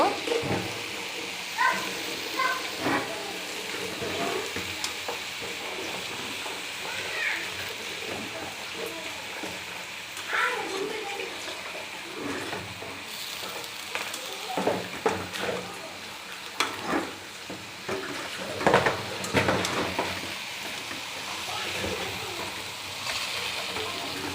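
Red amaranth greens get stirred and mixed in a pan, a continuous soft sizzle overlaid with scattered scraping and clinking from the spatula, steady and close throughout.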